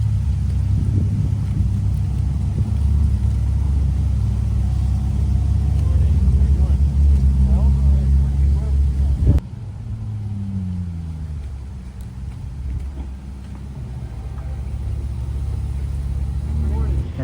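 Ferrari sports cars, a yellow F8 and a Portofino, rumble past during a fall cruise through a small town, with a deep, steady engine drone that shifts abruptly midway before engine tones sweep up and down.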